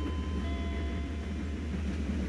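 A train in the simulator Trainz A New Era, a local Babat–Lamongan service, rumbles steadily with a deep, continuous low drone and faint whining tones above it, with no talk.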